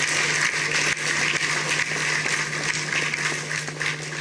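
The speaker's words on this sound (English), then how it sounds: "I think we can give him another round of applause." An audience at a formal conference hall gives a continuous round of applause, a dense, even wash of many hands clapping, fairly loud, with a steady low hum beneath.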